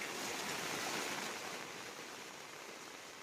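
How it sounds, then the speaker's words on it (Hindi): Floodwater rushing through the streets during a monsoon downpour in Buldhana, a steady, loud broadband roar of moving water that holds constant and eases slightly toward the end, with no voices. "तेज धारा यहाँ पर गलियों में पानी की फूट पड़ी है।"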